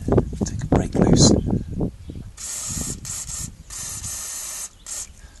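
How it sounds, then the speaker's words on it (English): Penetrating oil hisses from a spray can in several short and longer bursts onto grimy Renault Clio rear shock absorber bolts, coming after someone speaks close by. "it's probably worth using some penetrating oil on these bolts"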